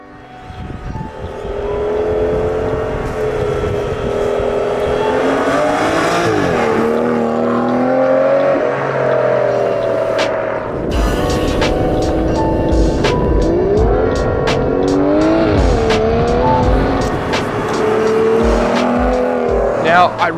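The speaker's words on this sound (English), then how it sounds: "today I'm going to be driving this stunning 2013 Aston Martin Vanquish" A 2013 Aston Martin Vanquish with its 5.9-litre V12 pulls hard through the gears, engine note rising and dropping with each shift, loud and close, with a brief tire chirp.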